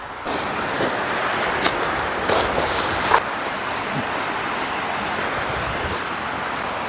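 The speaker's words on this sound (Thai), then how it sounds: "อยู่หน้าน้ำตกแบบนี้เลยนะครับ" Waterfall beside a campsite at Muak Lek in Saraburi, a steady broadband rush of falling water that continues unbroken and fairly close, with a few faint bumps and knocks.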